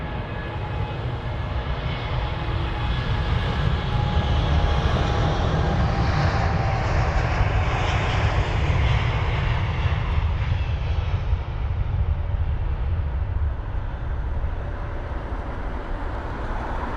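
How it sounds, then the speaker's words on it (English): A ten-year-old British Airways Boeing 787-8 Dreamliner takes off at Heathrow, a heavy continuous jet engine roar with deep rumble, loud and close, peaking midway and then slowly fading as it climbs away. "BA119 off to Bengaluru, the 7878 Dreamliner, Golf Zulu Bravo Juliet Delta, 10 years of age. Off it goes."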